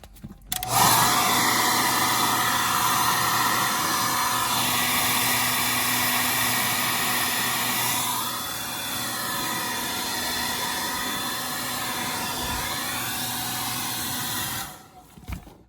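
A heat gun or hair dryer blows steadily for about fifteen seconds, warming plastic while fitting performance pedals in a Tesla Model S; the hiss stays loud and close, with its pitch shifting midway, and no one talks.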